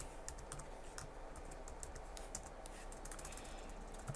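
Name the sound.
typing Arduino code on a computer keyboard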